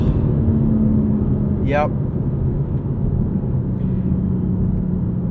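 Hard launch in a 2022 BMW M4 Competition xDrive, heard from inside the cabin as a loud, steady engine and road roar that barely lets up, with one brief spoken word over it.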